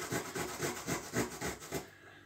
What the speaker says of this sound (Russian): поэтому я тру на терке